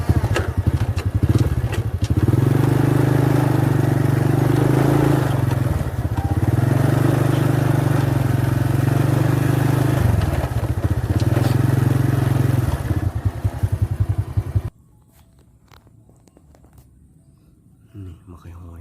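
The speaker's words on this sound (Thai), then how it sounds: "เดี๋ยวเขาขี่รถไปทางหน้าต่อเนาะ" A motorcycle engine drones loudly nearby with a steady rumble that rises and dips as it rides ahead along a rice-field path, people talking over it, before the noise cuts away to quiet.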